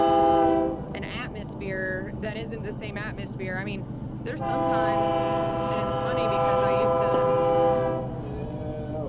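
A train rolls by with its horn blaring in long, loud sustained blasts, partly broken up at first, heard behind and over a person talking.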